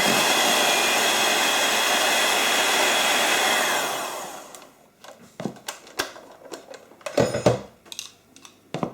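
Electric mixer beaters whir at a steady, loud pitch for about four seconds while being cleaned after whisking omelette batter, then cut out, followed by scattered clicks and knocks.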